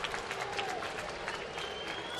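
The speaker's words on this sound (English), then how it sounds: "And a nice cheer for Georgia native Buster Posey." A baseball crowd at an Atlanta home game against San Francisco cheers and applauds for Buster Posey, a steady, dense roar of clapping and voices that holds level throughout.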